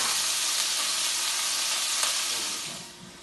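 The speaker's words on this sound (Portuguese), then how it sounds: "Vou colocar a folha de coentro aqui dentro para começar a dar um sabor, ela vai fritando aqui dentro pra gente." Coriander leaves frying in a pan give off a steady, close sizzle and hiss that holds evenly and then eases off toward the end, with no voices.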